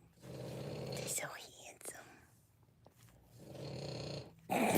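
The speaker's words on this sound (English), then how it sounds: "She's snoring so loud." A sleeping dog snores in a quiet room, with two long, loud rasping snore breaths separated by a softer pause, while a person speaks quietly.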